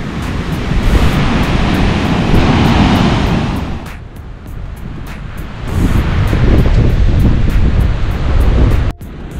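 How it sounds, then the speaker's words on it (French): Loud, continuous roar of ocean surf crashing on a beach on a day of big waves, swelling and easing in waves, with wind buffeting the microphone. "Aujourd'hui, il y a beaucoup de vagues."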